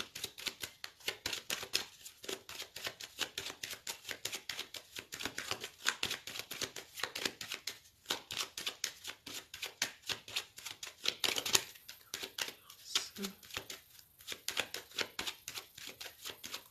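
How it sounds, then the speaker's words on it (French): Tarot cards being shuffled for a reading, a rapid crisp riffling and flicking that runs continuously in close, uneven bursts with a few short pauses; no talking. "Je vais faire un tirage avec le tarot que j'utilise tous les jours pour les consultations."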